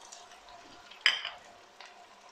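Red and yellow bell peppers with onions sauté quietly in a pan, with a soft continuous sizzle under a few stirring scrapes and one sharp utensil clink near the middle.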